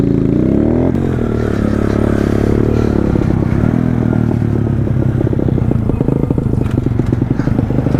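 A pit bike engine running rough and struggling, with a loud, close, uneven engine drone and bursts of revving and rattling throughout.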